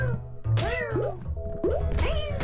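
Cartoonish cats in the foot-juggling game HackyCat, meowing several times in quick succession with rising and falling cries, interleaved with soft thumps, loud and close.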